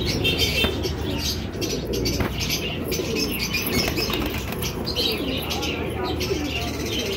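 Girebaaz pigeons in a Hyderabad pet store give off a steady rustle of flapping wings with soft cooing and chirps, and busy shop noise and talk run underneath throughout.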